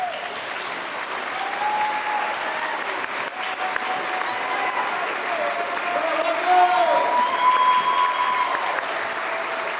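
A room of audience members at a Distinguished Young Women program applauds steadily for the contestants' parents, a dense, even roll of clapping lasting around ten seconds with faint voices mixed in.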